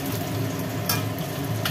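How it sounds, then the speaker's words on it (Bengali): Katla fish frying in hot oil in a home kitchen pan for a curd-based doi katla dish, a continuous close sizzle with a couple of brief sharper spatters. "এই কাতলা মাছ বেশি কড়া করে ভাজি না।"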